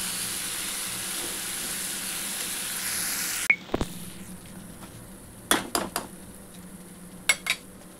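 Paneer pieces go into a pan of frying masala, so a steady sizzle is cut short by a sharp clatter, and a few spoon clinks and scrapes against the pan follow at close range.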